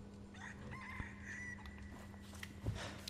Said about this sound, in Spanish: Cacarea pues, culero, pero saca un huevo.